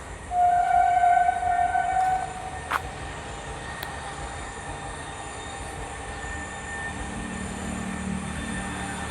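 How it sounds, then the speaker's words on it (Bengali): A train passes on railway tracks with a loud, sustained rumble and a high wheel squeal at the start, then eases into a steadier, quieter roll with a couple of sharp clanks. "তোমাদের আমি মেন রোডটার দিকে চলে আসছি, ট্রেন যাচ্ছে দেখতেও সে লাগছে।"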